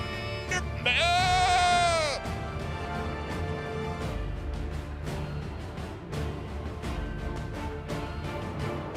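A goat gives one loud, wavering bleat near the start, followed by a stretch of clattering background noise with scattered sharp knocks.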